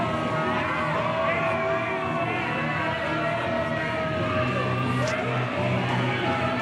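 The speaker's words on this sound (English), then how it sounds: "And you can hear exactly what the Copenhagen crowd think of these two." A Copenhagen wrestling crowd at a DPW tag team title match roars and chants continuously, a dense wall of voices, whoops and yells filling the arena without pause.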